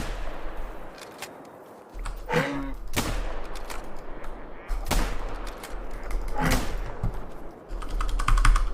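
Video game gunfire in a point-and-click game: a burst of sharp shots followed by scattered single reports, interspersed with quick clicking and tapping, moderately loud with no talk.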